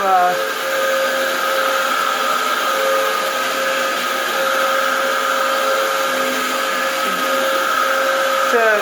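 A Dyson DC07 vacuum cleaner runs steadily on carpet with a constant loud whine and motor hum, close by and unbroken throughout.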